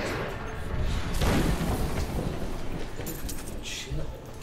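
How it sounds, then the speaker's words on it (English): Explosions from the run-and-gun video game Cuphead, a broad noisy burst swelling near the start and lingering as rumble beneath layered game sound, with people talking over it throughout. "Another explosion."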